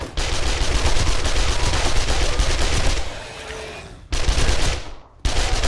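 Sustained rapid gunfire in the zombie survival game 7 Days to Die during a jail break-in, loud and close, with two brief pauses before the shooting resumes.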